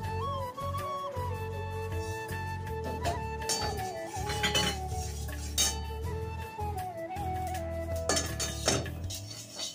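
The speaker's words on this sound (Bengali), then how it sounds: "প্রথমে এই গ্যাসটা জ্বেলে নিলাম আমি, শুকনো খোলায় তিলটাকে ভেজে নেব" Sesame seeds dry-roasting in a dry pan over a gas stove, with steady metallic scraping and clinking of a spoon against the pan throughout, and sharp clinks now and then.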